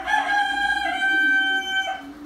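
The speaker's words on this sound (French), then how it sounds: "le coq il est beau" A large white-breed rooster crows once, long and loud at close range, a sustained harmonic call fading near the end, with no talking.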